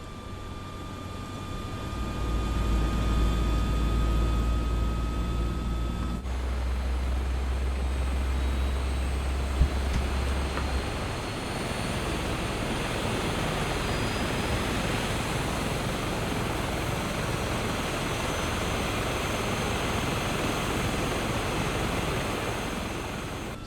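A KwikFlight Striker helicopter engine spools up in the MSFS 2024 simulator, a steady whine and rushing turbine roar building and holding for over twenty seconds, with a brief low rumble early on and no talking.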